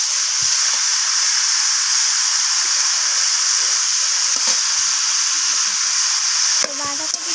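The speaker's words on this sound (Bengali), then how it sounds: "তো বাঁধাকপিটা দিয়ে আমি মশলার সাথে এইভাবে নাড়াচাড়া করে মিশিয়ে নিচ্ছি।" Cabbage frying with spices in a pan, giving a steady loud sizzle and hiss throughout, with scattered soft scrapes of stirring and a brief clatter near the end.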